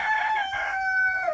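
A newly added backyard hen lets out one drawn-out, tonal call lasting just over a second, close by and clear, with no talk over it.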